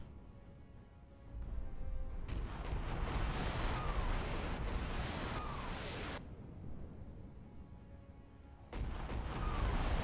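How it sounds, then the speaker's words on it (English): Artillery barrage in the video game Battletech, heavy rumbling bursts of shellfire rolling in waves, loud and continuous with brief lulls between volleys. "Oh, there is a new artillery barrage on the Wolverine, huh?"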